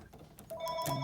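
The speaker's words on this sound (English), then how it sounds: "phone's ringing" A telephone rings in the background, a brief bright electronic trill that builds near the end of a short stretch, faint and without speech over it.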